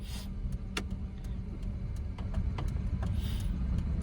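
Steady car engine hum inside the cabin during a driving lesson, rising slightly as the accelerator is pressed while turning right, with a few faint clicks over the continuous low drone.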